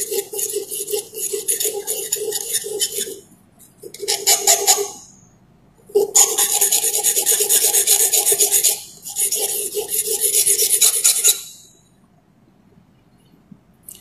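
A metal calligraphy pen nib is shaped against a grinding machine, giving close, harsh rasping bursts of several seconds each, separated by short silent pauses, four passes in all.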